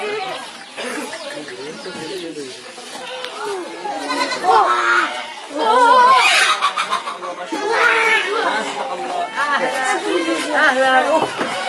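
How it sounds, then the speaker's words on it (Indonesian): A month-old goat kid bleats in repeated wavering calls, close by and mixed in with ongoing talk from people nearby. "coba dilihat-lihatnya anak kambingnya"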